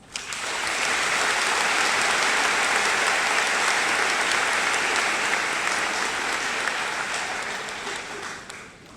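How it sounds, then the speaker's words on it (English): Graduation ceremony audience breaking into loud, sustained applause that swells quickly, holds as a dense roar of clapping for several seconds, then tapers off. "Let's give you all a round of applause."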